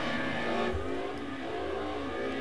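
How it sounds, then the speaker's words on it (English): Slot.It 1/32 scale DTM slot cars race around a track, their small electric motors giving a steady, close, continuous whine that rises and falls slightly as they lap. "Okay, both cars running well."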